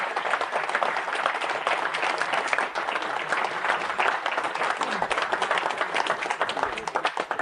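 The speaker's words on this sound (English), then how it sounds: "I would like to start this morning by just giving a warm round of applause to Mr. Mike Buchanan" Conference audience gives a warm, sustained round of applause, dense and even clapping from a large crowd filling the room throughout.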